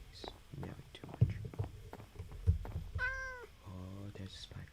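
A cat yowls loudly twice in a row near the end, two drawn-out harmonic meows following busy background sounds and faint whispery voices during a Minecraft live stream.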